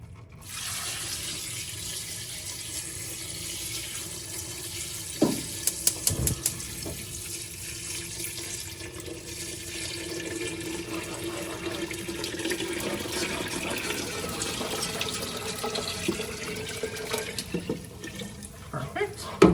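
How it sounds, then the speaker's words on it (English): Broth pours into a gumbo pot of turkey and sausage in a steady liquid splash and trickle, with a few clanks and bumps as it goes and speech now and then over the pouring. "I'm gonna go ahead and pour my broth in here and get these simmering"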